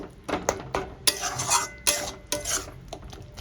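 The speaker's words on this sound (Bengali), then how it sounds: "ভালো করে কষিয়ে নেব" Fish curry masala for rohu being stir-fried in a pan, with a quiet sizzle under a run of clattering spatula scrapes and metal knocks against the pan, close up with no voices.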